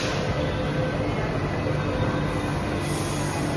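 Bangalore metro train running with a steady, loud rumble and broadband roar throughout, continuous and close, with no talk.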